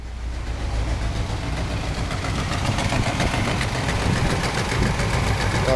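A 1981 Chevy C30 truck engine idles steadily with a new fan clutch, a loud, constant rumble with a strong rush of fan air, close and unbroken.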